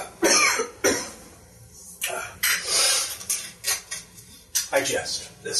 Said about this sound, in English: And my coughing was fake as well.